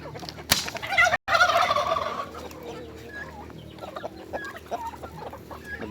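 Rhode Island Red chickens clucking and gobbling in a backyard flock, a loud burst of squawking at the start followed by scattered softer clucks and calls nearby, with faint background voices.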